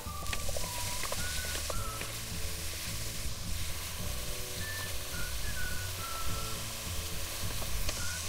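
Carrot and potato pieces sizzle steadily in a hot pan while veggie pulao is cooked, a continuous frying hiss with faint clinks and whistle-like tones over a low background hum, no talking.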